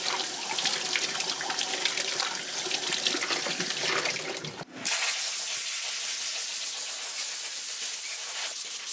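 Running water hisses steadily as car parts from a 1976 Mazda RX-5 Cosmo restoration are rinsed off, with a brief interruption midway before the spray resumes, loud and close throughout.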